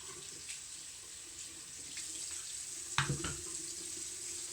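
Water runs from a tap into a sink while makeup brushes are washed, a soft steady stream with a few brief splashes and clatters near the end.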